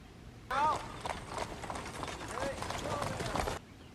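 The hooves of a horse pulling a carriage at night clip-clop in a steady rhythm, with creaking mechanical carriage sounds underneath, while voices speak over them. The sound cuts in and out abruptly.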